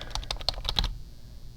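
A computer keyboard clicks through a quick burst of about eight keystrokes as a search term is typed, close and crisp, then stops.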